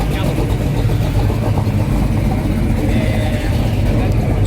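A classic Ford Mustang-style car engine idles and rumbles as it pulls up, a steady low mechanical drone heard close by under ongoing crowd chatter and talk.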